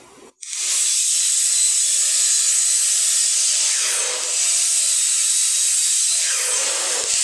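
A power saw whines loudly and steadily as it cuts through scrap wood for coasters, dipping briefly twice mid-cut before ending abruptly.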